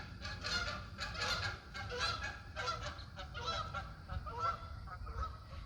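A flock of geese honks repeatedly in an irregular, overlapping chorus over steady low background rumble, fairly close and continuous throughout.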